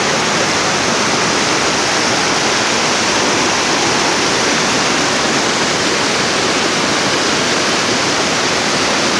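Steady, loud rush of the Nantahala River pouring over rocks in a forested valley, a continuous broadband roar close by with no breaks and no voices.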